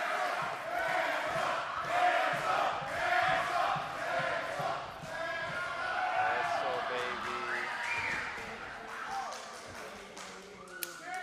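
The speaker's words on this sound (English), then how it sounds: "listen to this crowd, it's about to get loud in here" A pro wrestling crowd at a SoCal Pro event in Vista cheers and chants loudly, rhythmic group shouting rising and falling, with announcer speech over it and a sharp thud near the end.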